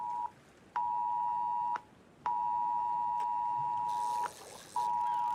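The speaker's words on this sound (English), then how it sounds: "seem to have some sort of buzzer going off" A laptop buzzer sounds as a steady electronic tone in several long bursts separated by short gaps, clear and alone against quiet background hiss.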